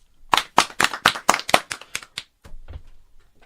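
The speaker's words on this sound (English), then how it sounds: "So, round of applause." A small group claps in a short burst of about a dozen sharp hand claps that thin out and stop, close and fairly loud.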